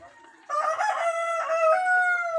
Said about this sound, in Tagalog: Maingay naman yung mga manok ko.